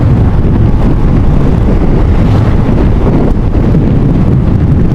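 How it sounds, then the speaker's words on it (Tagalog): Strong wind buffets the microphone outdoors in San Fernando, Naga City, during a motorcycle ride, a loud continuous roar of rumbling gusts with no speech. "Lakas ng hangin"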